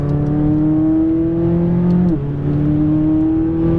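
McLaren 570S engine accelerating hard on a race track, a loud steady roar climbing in pitch, briefly dipping at a gear change near the middle, then pulling strongly again.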